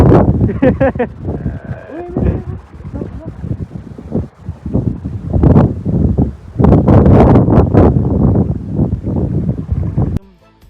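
Strong wind buffeting on a hilltop fort at Asheri near Boisar, loud gusty rushing and microphone rumble that rises and falls, with people talking over much of it.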